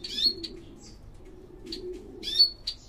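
Small cage birds, Bengalese and Gouldian finches and canaries, chirp in short, bright bursts over a steady low hum, a few quick calls clustered near the start and end.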